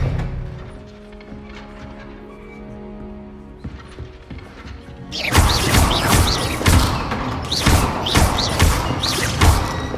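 A spell cast in the Hogwarts Legacy game: after a quieter stretch of ambience, a loud burst of magical whooshes and impacts erupts and keeps pulsing with repeated bright crackling hits.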